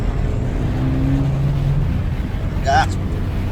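A 2023 Suzuki Dzire's engine drones low and steady from inside the cabin, its pitch shifting briefly as the car upshifts before settling back under throttle.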